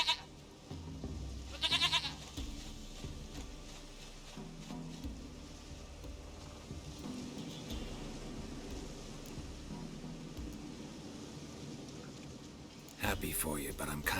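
A goat bleats in The Witcher 3, a wavering cry near the start over dense game music and ambience, with a louder burst near the end; a voice speaks over the scene.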